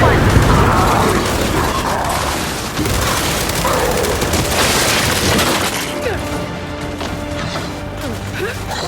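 Heavy, crashing blasts from a grenade explosion in Gears 5 dominate a loud, chaotic firefight, with debris rumble and gunfire continuing as the noise thins toward the end; shouted voices sit in the mix.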